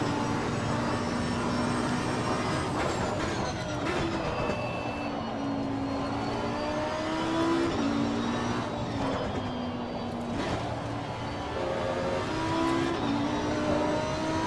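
GT3 race car in the racing game Assetto Corsa Competizione, engine whining and climbing through the gears for a sustained stretch, the pitch dipping as the driver lifts off the throttle, then rising again under hard acceleration.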